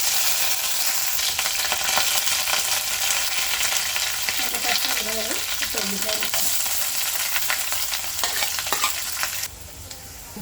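Mustard seeds, chana dal, urad dal and curry leaves fry in oil for a raw coconut chana dal curry, a continuous crackling sizzle with brief stirring scrapes midway, then dropping abruptly quieter near the end.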